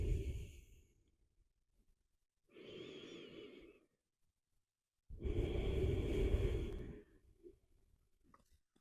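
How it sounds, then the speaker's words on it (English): Slow deep breathing during a yoga session, three long breaths in and out with quiet pauses between, close and soft, each exhale fuller than the inhale. "Breathing deeply."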